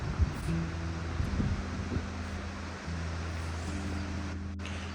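Wind buffets a microphone outdoors as a low, steady rumble with gusty swells, mixed with a low droning hum and some faint rustling.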